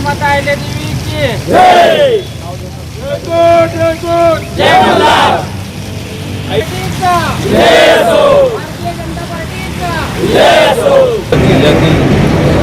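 Crowd of community members celebrating in the street beside a statue in Solapur, loud rhythmic group chants and slogans rising in repeated waves, with cheering and shouting voices close by.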